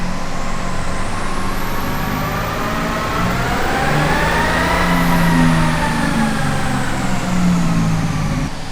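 A car engine revs hard with the exhaust valve closed through a Thunder Muzzle muffler, building loud and steady, the pitch rising and then settling, with a persistent high whine on top and no speech.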